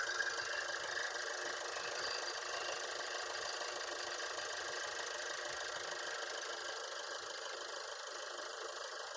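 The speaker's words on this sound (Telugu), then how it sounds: "ఇంజన్ అయితే ఇప్పుడు స్టార్టింగ్ లో అయితే ఉంది." A 2016 Ford EcoSport Titanium diesel engine idles with a steady, even clatter and hum, heard close and constant throughout.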